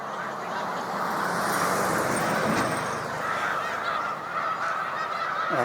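Snow geese on Cayuga Lake keep up a loud, unbroken chorus of overlapping honks and cackles from a big flock, close and constant throughout.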